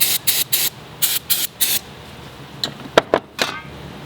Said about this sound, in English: spray this chain down with a little bit of starting fluid to clean it off.